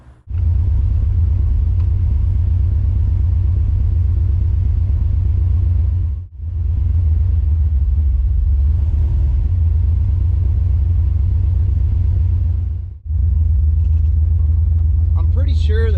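A freshly built car with a misfire from a fouling spark plug drives down the road, its engine a loud, heavy low rumble heard from inside, briefly dropping away twice before surging back.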